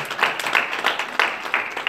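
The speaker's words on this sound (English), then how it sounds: "Clap your hands unto you." Church congregation at a Friday evening service claps hands in a quick, irregular rhythm, nearby and moderately loud, with no talking heard.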